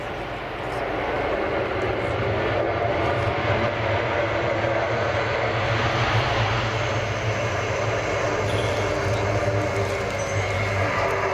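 Airbus A400M military transport turboprop at the RIAT 2014 air display, a steady, loud droning engine roar with a low hum that holds throughout, while a commentator talks over it.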